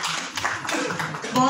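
An audience at a journalists' award function at a university in Meerut gives a short burst of scattered clapping, with an announcer's voice partly over it.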